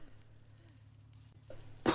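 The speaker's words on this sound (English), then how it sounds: "I gotta get rid of this cough, though." A single sharp cough bursts out near the end, close and loud, after a quiet stretch of low room hum from a person who is sick.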